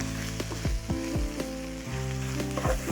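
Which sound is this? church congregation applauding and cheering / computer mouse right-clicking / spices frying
spices frying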